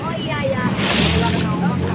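A steady motorboat engine drones on the sea off Pangandaran Beach amid rushing wind and water splashing against the hull, loud and continuous with no talking.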